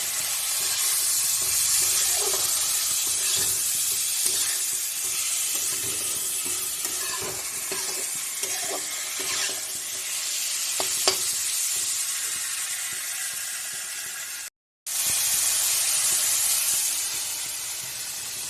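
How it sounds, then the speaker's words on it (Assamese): Spices with salt and turmeric are stirred and fried in a pan, giving a steady sizzle and hiss with scraping stir strokes throughout and one brief silent break near the end. "সোৱাদ অনুযায়ী অকণমান নিমখ আৰু হালধিৰ গুড়ি দি দিলোঁ একেলগে। ভালদৰে ধুনীয়াকৈ লৰাই দিলোঁ।"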